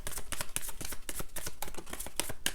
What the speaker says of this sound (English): Spirit said one more shuffle.